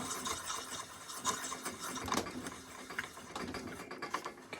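Hand-spun cutter of an ammunition case trimmer, guided into the case mouth, scraping around a brass casing in a continuous, faint, gritty whir with small rhythmic clicks and ratcheting bursts, heard close and alone.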